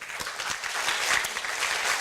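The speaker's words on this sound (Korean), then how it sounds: "박수로 시작하시죠." A lecture audience bursts into applause, with a few separate claps at first and then a full round of clapping that grows and continues.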